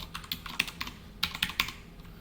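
Rapid typing on a computer keyboard, a quick irregular run of close, crisp key clicks with a few sharper taps, alone and fairly quiet.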